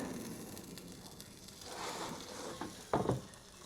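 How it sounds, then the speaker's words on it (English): An air fryer cooking rice gives a steady, faint sizzle and crackle throughout, with a brief louder rustle near the end. "Take a look at the air fryer here."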